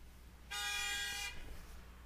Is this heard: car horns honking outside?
yes